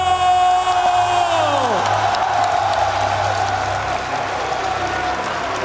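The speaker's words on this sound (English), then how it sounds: "Listen to the crowd in here." A large crowd roars and cheers at a League of Legends esports tournament in Paris, a loud sustained wall of voices under a descending synth sweep, with a commentator talking over it.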